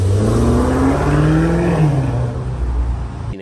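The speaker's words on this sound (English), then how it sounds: "I think the Maserati Levante is pretty cool on its own. I think it sounds pretty nice." A Maserati Levante SUV's engine revs steadily, its loud, close tone climbing gradually in pitch before settling, with no talking over it.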